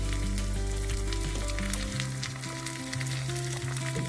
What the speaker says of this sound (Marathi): आता यामध्ये किसलेले आले घालून यातील कच्चेपणा जाऊपर्यंत परतून घेऊया।